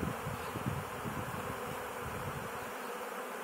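A steady, unbroken drone of wild mountain bees buzzing during a new hive installation, fairly faint and even throughout.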